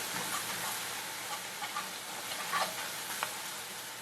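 Flour cooks with onions in butter in a pan, with a steady loud sizzle and occasional stirring scrapes throughout.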